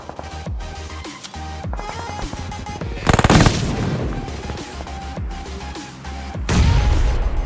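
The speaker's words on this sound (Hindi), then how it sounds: "जैसे ही ये नेड फटता है" In the PUBG Mobile shooter game, a grenade bursts with heavy blasts amid rapid bursts of gunfire and machine-gun rattle, loud and dense throughout, with two stronger explosive surges.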